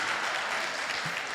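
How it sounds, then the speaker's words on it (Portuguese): Church congregation applauding during a sermon, a steady dense wash of clapping that fills the whole moment without pause, fairly close and even in loudness, with no voices over it. "Obrigado a todos os pais que aplaudiram."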